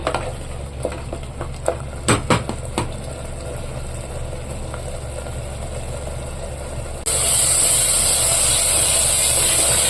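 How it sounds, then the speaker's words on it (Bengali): Spices for a winter mutton curry sauté in a pan, a steady close sizzle with several sharp scraping stirs early on, then a louder, brighter hiss takes over near the end. No one speaks. "এখন এই যে মশলাটা কষানো হয়ে গেছে"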